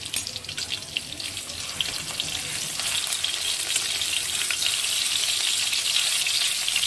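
Chicken keema balls fry in hot oil over a medium flame, giving a steady, close hiss that grows slightly louder and denser and continues without pause.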